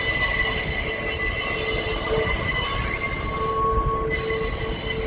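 A GWR train rolls along the platform nearby, a steady rumbling roar with high squealing wheel tones running throughout.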